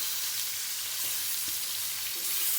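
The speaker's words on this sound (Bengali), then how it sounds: "মুরগিটা একটু ভেজে নিব" Chicken pieces fry in a pan, a dense, steady loud sizzle with a few faint stirring knocks, close and continuous without any talk.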